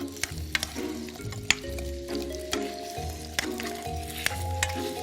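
Lotus root sizzles steadily in a hot pan as it is stir-fried, with sharp clacks of a utensil stirring and scraping, close up and with no talking.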